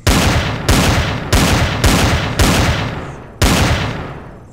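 Six heavy gunshots fired in Empyrion Galactic Survival, loud evenly spaced blasts roughly a second apart, each with a booming tail, no talking.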